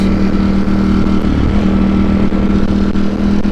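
Ducati V4 Streetfighter motorcycle running with an aftermarket exhaust, a loud steady engine drone with a strong low hum and wind rush, held close and continuous with no talk.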